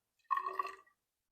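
Water is poured from a small measuring vessel into a container during a sand and mud absorption experiment, a single short splashing trickle lasting about half a second, close and fairly quiet.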